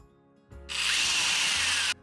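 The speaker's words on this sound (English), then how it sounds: "With 2 holes drilled into a tongue depressor, I hot glued 2 dowels at 90 degrees." A power drill bores holes into a wooden tongue depressor, whirring up abruptly after a click and holding a steady, close, loud whine for over a second before cutting off.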